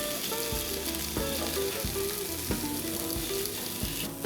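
Carrots coated in olive oil sizzle loudly and steadily on a Chefman electric smokeless indoor grill, with occasional soft knocks and clunks as pieces are moved around.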